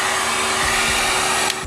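A hot-air plastic welder blows steadily while heating and welding a crack in a car bumper, a loud, even whooshing hiss with a faint whine that cuts off sharply near the end.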